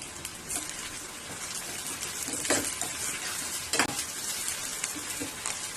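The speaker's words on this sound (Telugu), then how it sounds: "ఇలా మంచిగా అయితే గోల్డెన్ కలర్ లో వచ్చేలా ఫ్రై చేసుకోవాలి ఫ్రై అవుతున్నాయి కదా" Sliced onions fry in hot oil for haleem and crackle in a continuous soft sizzle, broken by a couple of louder scraping stirs from a spoon against the pan.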